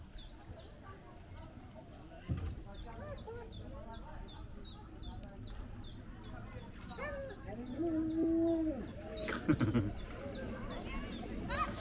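A rapid series of short, nasal duck quacks repeating in bursts in the canal village of Giethoorn, Netherlands, with people talking nearby and water and outdoor sounds around.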